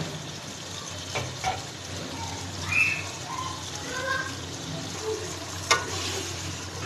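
Red chilli, salt and turmeric fry for gobi gosht in a steady sizzle with occasional stirring scrapes, and faint bird chirps sound in the background.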